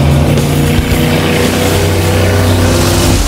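Cars driving and drifting in circles through water, a loud continuous engine roar with churning splash noise that stays close and steady throughout, with no talking.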